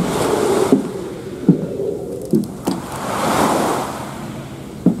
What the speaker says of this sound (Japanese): わ、すごい波の音が。